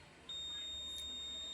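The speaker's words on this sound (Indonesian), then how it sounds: "ada buzzer bunyi panjang 3 kali, itu proses pendaftaran remote baru" A motorcycle SCU buzzer sounds during new ECM ID registration, a close, steady high-pitched electronic tone that starts abruptly and holds continuously, without any talk.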